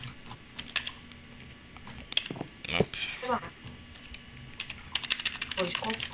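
Someone types on a glitchy computer keyboard, producing irregular bursts of close clicks and clacks with short pauses, and a single quick spoken word heard once among the keystrokes.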